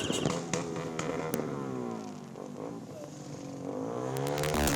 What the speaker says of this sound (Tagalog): Mga sasakyang nagsisibusina, mga motor na maiingay